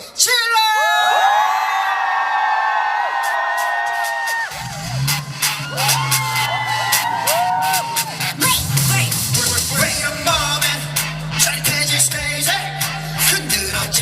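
A crowd at a university campus festival concert screams and whoops loudly in high, sustained cheers, then booming stage music with heavy bass comes in beneath the continuing shouts.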